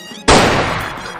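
A toy Spider-Man gun fires one loud, sudden burst that starts abruptly and fades gradually over about a second, close and with no talk.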